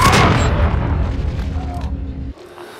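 A grenade blast in the Call of Duty video game, a loud booming burst at the start that rumbles and fades over a couple of seconds before cutting off abruptly.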